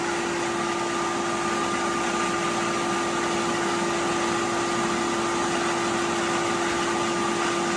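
A pool pump runs during a sand filter backwash, giving a loud, steady motor hum with broadband whooshing water noise and a constant tonal whine throughout, unbroken and close.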